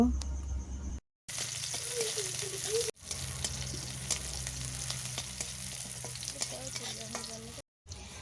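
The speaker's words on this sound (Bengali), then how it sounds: "পেঁয়াজ ভালোভাবে নাড়াচাড়া করে ভেজে নেব" Chopped onion fries in hot oil with panch phoron spices in a pan, giving a steady close sizzle with scraping stirs and small crackles, broken by two brief silences.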